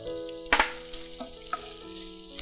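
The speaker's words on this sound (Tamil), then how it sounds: "முதல்ல வெங்காயம், நீளவாக்கில் அரிஞ்சு வச்சுருக்கிற வெங்காயம் சேர்த்துக்கலாம்." Lengthwise-sliced onions frying in a pan, a short burst of crackle as they hit the oil settling into a low hiss, heard under steady background music.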